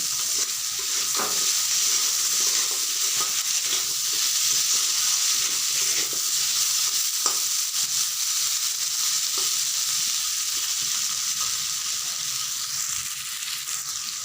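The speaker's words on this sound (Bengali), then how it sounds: "তাহলে আলুগুলো ভাজা হবে, পেঁয়াজগুলো মাছগুলো সব একসঙ্গেই ভাজা হবে" Potatoes, onions and dried loitta fish fry together in a pan, giving a loud, steady, close sizzle with occasional scrapes and stirring knocks throughout.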